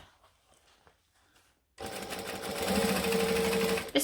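After a quiet pause, a sewing machine starts stitching a bag seam, a close, steady whirring run that speeds up slightly before stopping with a small clunk.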